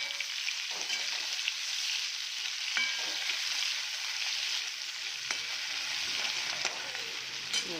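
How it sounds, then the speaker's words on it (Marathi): Potatoes and finely chopped onion fry in hot oil, a steady close sizzle with occasional soft scrapes and clicks of stirring, even in level, with no talking. "कांदा ॲड करूया छान आणि ती तुम्ही भर परतून छान घेऊ"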